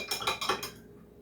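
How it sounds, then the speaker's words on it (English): A small sugar spoon clinks against a coffee cup in a quick run of four or five bright taps, then stops; close and fairly quiet, no talking. "Stir my coffee."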